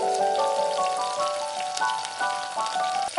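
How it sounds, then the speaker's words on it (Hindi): Onions and green chillies fry in hot oil until golden, giving a steady close crackling sizzle with scattered pops and a faint tonal hum underneath, no voices. "अब डालेंगे इसमें जो हमने प्याज काटा था वो काट करके इस सबको हम सुनहला होने तक भूनेंगे।"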